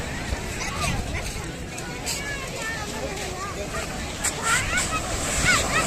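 Waves wash along the seashore at Porbandar Chowpati beach under a steady breeze, with crowd chatter and voices mixed in throughout at moderate distance.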